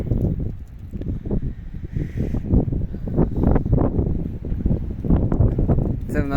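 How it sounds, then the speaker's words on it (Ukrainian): Strong wind buffets the microphone in low, rumbling gusts that continue throughout, with no speech, in a field during winter wheat sowing. "в нас дуже сильний вітер сьогодні."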